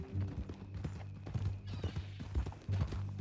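Horse hooves in Red Dead Redemption 2 clop in a quick, uneven rhythm, close and fairly loud, with a few mechanical clicks mixed in and no talking.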